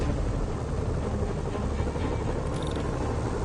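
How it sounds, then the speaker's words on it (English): Helicopter rotor noise in a Spider-Man video game city, a loud steady whirring drone that continues unbroken throughout. "Bet I can use those helicopters to swing."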